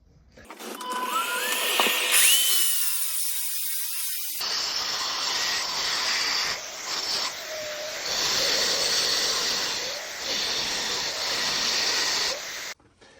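A power tool cutting chases into a plastered wall for new socket boxes and trunking, a loud continuous grinding hiss that holds for several seconds with slight dips in intensity, preceded by a brief rising spin-up.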